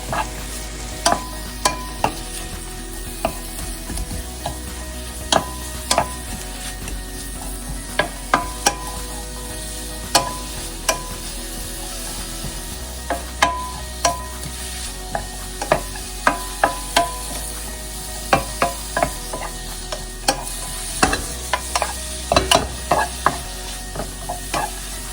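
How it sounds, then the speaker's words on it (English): Onion sautéing in hot cooking oil in a frying pan, a steady sizzle with frequent sharp clicks and scrapes of a spatula stirring throughout, close and continuous with no talking. "heat the frying pan and add some cooking oil and add onion. And saute until onion gets nice and soft"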